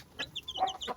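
A mother hen clucks close by while scratching and scattering feed for her new chicks, a quick run of soft, short clucks.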